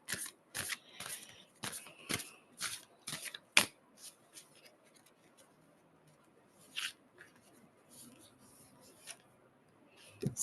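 A deck of large oracle cards is shuffled close up, crisp riffling flicks coming in a quick, regular rhythm at first, then thinning to sparse, quieter slides and taps of card against card.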